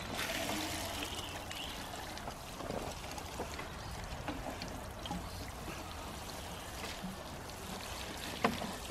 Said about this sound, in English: we'll show them in and give them a good watering